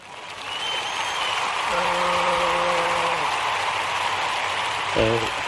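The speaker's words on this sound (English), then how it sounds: "Give him a round of applause, y'all." A room full of people breaks into a sustained round of applause, dense and steady clapping that swells early and holds throughout, while a voice calls out briefly over it.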